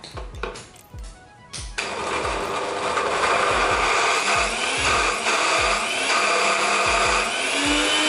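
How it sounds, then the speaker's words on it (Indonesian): A blender grinding spices for a base seasoning paste whirs loudly and steadily after a few uneven starts, its grinding motor running continuously. "Kita blender sampai halus."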